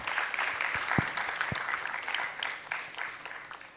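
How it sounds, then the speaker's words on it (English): Audience applause at a medical conference and alumni gathering, a steady wash of clapping from a seated crowd with a few sharp, close claps standing out near the start, no talking. "Please give a round of applause for their effort."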